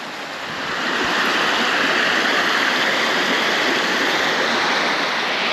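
Surface Creek in Cedaredge, Colorado, flows in a steady, loud, broad rush of water that swells in after a moment and holds constant, close by with no voices.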